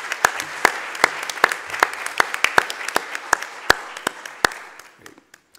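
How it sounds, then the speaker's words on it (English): A small board meeting audience gives a round of applause for the former board president, a sparse, fairly close patter of individual claps that thins out and fades at the end. "So I would like to have a round of applause for former President."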